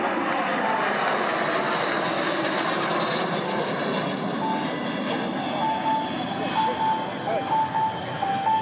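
Aero L-39 Albatros jets flying in tight formation during a descent at the Air Legend 2023 air show, a loud, sustained jet engine roar with a slowly falling whine, while a commentator talks over it.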